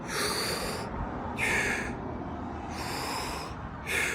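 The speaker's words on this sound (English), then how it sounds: "So I don't know if you can tell, but this would be like a full exhale" Forceful breaths during a breathing exercise, four rushing exhales through the nose or mouth in a fairly even rhythm, each about half a second to a second long, close and clear with no talking.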